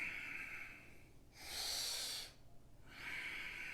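Soft, close breaths move in and out during a yoga breathing exercise, with a long airy exhale rising in the middle between quieter breaths on either side.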